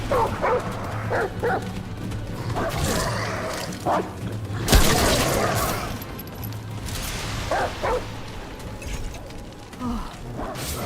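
A dog companion in the game Remnant: From the Ashes barks in short repeated bursts through game combat, with one loud thump midway and occasional talk underneath.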